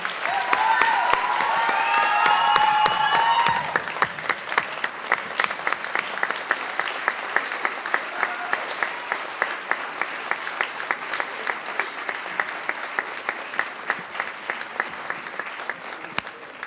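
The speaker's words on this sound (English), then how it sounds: "So one more big round of applause for all of our colors." Sustained applause at a police promotions ceremony honoring the colors, a large audience clapping steadily; early on voices and cheering sit atop the clapping, which then settles into an even, crisp rhythm that carries on for a long stretch.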